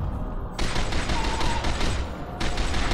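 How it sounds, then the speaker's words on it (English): An incendiary grenade goes off in the shooter game Fear 2, a sudden loud blast at once swelling into a dense, roaring burst of crackling fire and gunfire-like noise that holds steady to the end, with no talk. "It's just an incendiary grenade,"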